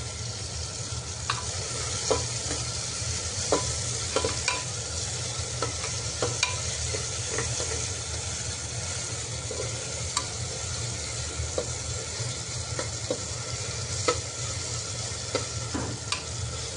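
Tomatoes and red chillies sautéing in a pan for dal khichdi, with a steady sizzle and soft scraping stirs throughout, close up and with no talking.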